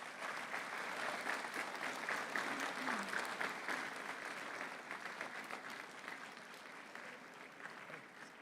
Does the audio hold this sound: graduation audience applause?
yes